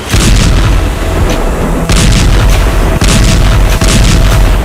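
Missile strikes in war footage from the fighting in Kursk produce loud, dense, continuous booming and rumbling blasts, with sharper impacts cutting through a heavy, sustained roar.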